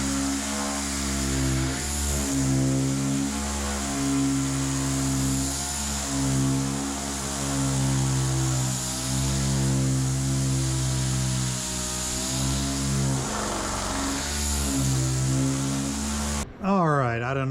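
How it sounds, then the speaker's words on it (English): A DA sander with 80-grit paper grinds steadily across a galvanized car body panel, a loud, continuous, humming whir with slight wavering in pitch, running almost the whole time before cutting off abruptly. "So I'm going to take 80 grit on a DA,"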